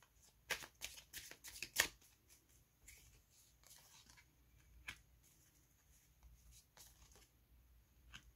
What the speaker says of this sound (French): On va prendre des cartes pour le lien.